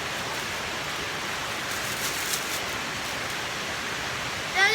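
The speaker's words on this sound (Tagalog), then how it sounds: "Ang ingay ng ulan." Steady rain falls continuously as a dense, even hiss, moderately loud and unbroken, with a brief rustle near the end.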